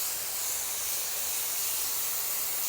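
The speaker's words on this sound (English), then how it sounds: "So I'll just spray that for probably another 5 to 10 seconds." An Earlex 6700 paint sprayer blows a continuous, even hiss of air and paint, loud and close with no break or voices through the whole stretch.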